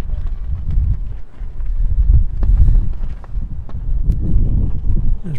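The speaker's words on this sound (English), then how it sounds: "It's really windy up here." Strong gusting wind on a high scenic overlook above El Paso buffets the microphone with a deep, continuous rumble that swells and eases, occasional light knocks beneath it.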